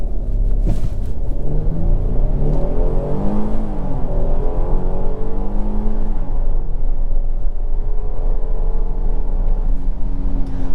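A 2023 Kia Telluride SX Prestige accelerating hard in sport mode with traction control off, its engine rising and falling through the gears in a loud continuous surge heard from inside the cabin.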